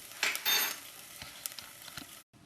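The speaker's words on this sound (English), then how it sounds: "sweating the vegetables, getting more flavor out of them before we put the rice on the stock" Vegetables with dried thyme sizzling in a pot: a steady soft frying hiss with a couple of louder stirring scrapes early on, then a brief drop to near silence just before the end.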